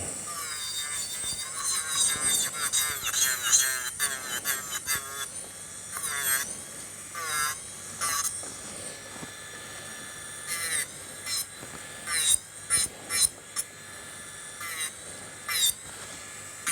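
Rasping nail file working a fingernail during a rainbow gel nail set with Aurora pigment, heard as close, repeated scratchy strokes in short bursts with brief pauses between them.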